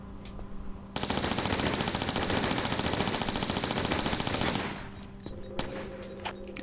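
Sustained automatic gunfire in a Tomb Raider level editor game, a dense, loud burst of rapid shots lasting several seconds before cutting off, followed by quieter scattered game sounds.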